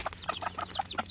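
Hens cluck in quick, short bursts at close range, several soft chirpy calls in rapid succession, with no one talking.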